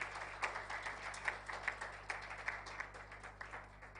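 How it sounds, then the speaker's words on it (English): An audience at a school reunion seminar claps continuously for about four seconds, with a dense patter of hands heard at moderate distance and no voices. "Please, let's give him a round of applause."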